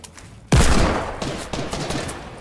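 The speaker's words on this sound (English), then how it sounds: "I got a legendary pump shotgun to him." Video game gunfire from a pump shotgun: a sudden loud, booming blast followed by a rumbling tail and further softer shots and battle noise over the next two seconds.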